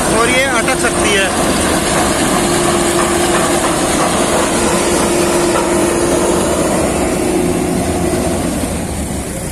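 A heavy sugarcane harvesting machine runs steadily in a field, its engine a loud continuous drone with a sustained tone, joined briefly by a rattling burst near the start.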